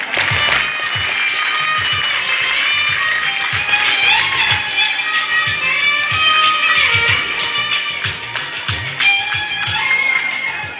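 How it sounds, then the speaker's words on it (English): An audience at a school graduation ceremony claps continuously, a bright, dense patter of hands with sharper close-by claps and taps scattered throughout, loud and steady with no speech. "I would like to request all the audience to clap for them."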